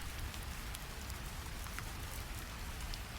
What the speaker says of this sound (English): Rain sounds fade to gentle whispers